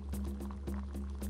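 Liquid in a bubbling billy stew pot gurgles and pops in a quick, regular rhythm of bursts, close and fairly loud, with no voices.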